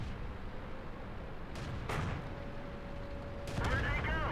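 Tank cannon fire from the video game World of Tanks, with a few sharp booming shots spaced apart over a constant low rumble of engines and battle, moderately loud and fairly close.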